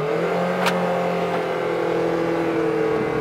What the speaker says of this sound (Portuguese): Dá uma acelerada, monstro.